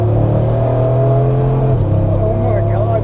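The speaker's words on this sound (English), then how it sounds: "That was a crazy acceleration to the speed limit of 60 miles per hour" A Mercedes G-Wagon accelerates hard from inside the cabin, its engine note climbing in a rising whine and then shifting as the speed builds, loud and close throughout.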